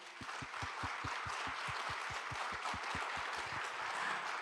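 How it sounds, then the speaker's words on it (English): Applause from the audience at a closing ceremony: dozens of hands clapping steadily over a broad wash, with a sharp, regular rhythmic clap standing out near the front, all fairly quiet and with no talk. "please give a big round of applause"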